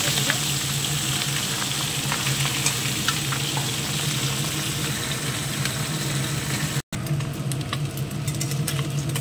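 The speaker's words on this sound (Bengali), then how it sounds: "মাছটা উল্টিয়ে দেব। বড় বড় পাবদা মাছ" Large pabda fish frying in oil in a pan, a loud, steady close sizzle with scattered crackles and spits and a brief cut partway through, no talking.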